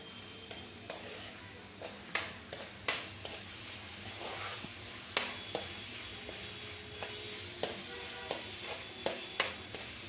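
Vegetables fry with a soft, steady sizzle in a pan during a live cooking session, punctuated by irregular clicks and taps of a spoon stirring against the metal.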